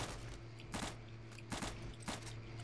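Rapid gunfire from a Return to Castle Wolfenstein video game, heard as a few loud, sharp bursts spaced about a second apart over a steady low background hum.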